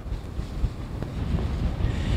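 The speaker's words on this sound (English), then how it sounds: "I'm sure you can hear the wind is really whipping past us out here." Strong wind during a snowstorm in Hampton Roads buffets and roars against the microphone in rough, continuous gusts, loud and close with no voices.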